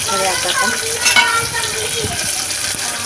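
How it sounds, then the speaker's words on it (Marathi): Garlic, onion, tomato, green chilli and coriander sauté in a pan for dal khichdi, giving a steady close sizzle with spatula scrapes and stirring clicks, while a voice talks faintly underneath. "याच्यामध्ये थोडंसं आपण परतून घेऊया."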